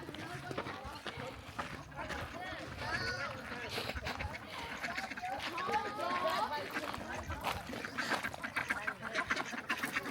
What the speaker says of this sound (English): It's got a lot of ducks there. See that? So many ducks.